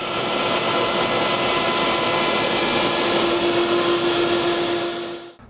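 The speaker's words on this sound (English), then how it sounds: "I've got a pattern routing bit in my router table here" A router table with a pattern routing bit cuts wood for a round table apron against a template, giving a loud, steady, close whine that holds evenly for about five seconds before stopping.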